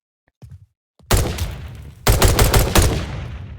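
An R15 rifle in the Roblox video game fires a handful of sharp, loud shots in quick succession, each trigger pull giving a separate crack with a short tail.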